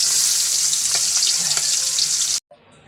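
Cumin seeds and onion hit hot oil in a pan for a curry, giving a loud steady sizzle with faint clinks that cuts off abruptly near the end and leaves quiet room noise.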